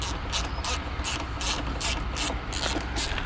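Rapid, steady ratcheting clicks from a Snap-on socket wrench being turned, close and fairly loud, running continuously with no talk.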